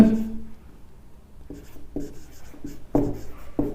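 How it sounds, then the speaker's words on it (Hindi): Handwriting a Hindi word in several forms: a few short, separate scratchy strokes of pen or chalk, fairly close and faint, with pauses between bursts and no talk. "मैं इसे अलग अलग रूपों में लिखता हूं"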